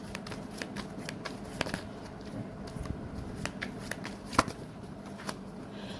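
Tarot cards are shuffled close by, giving soft papery flicks and riffling clicks in short irregular bursts, with one sharper snap near the end.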